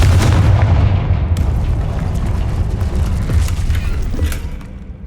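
A Confringo fire spell from the Hogwarts Legacy video game lands as a loud, dense explosive blast with heavy low rumble, sustained for several seconds before tapering off.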